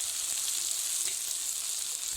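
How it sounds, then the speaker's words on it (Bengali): Onions and tomatoes frying in oil with turmeric and chili powder, a steady close hiss of sizzling with faint stirring, no voices. "পেঁয়াজ আর টমেটো খুব ভালোভাবে ভাজা ভাজা হয়ে গেছে"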